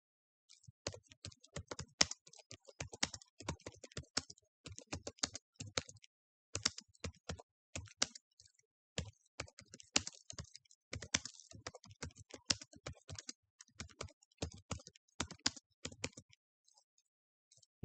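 A computer keyboard is typed on in fast, uneven bursts of crisp key clicks with short pauses between them, close and fairly quiet, with no voices.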